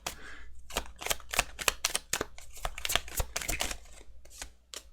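Tarot cards are shuffled by hand in quick, crisp bursts of riffling and slapping, close up and alone, with an uneven rhythm of flicks and pauses.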